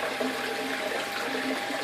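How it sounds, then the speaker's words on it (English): A pump pushing water into a tank, heard as a steady, hissing gush of flowing and splashing liquid that continues evenly, with no speech over it. "The pump is too strong for this tank."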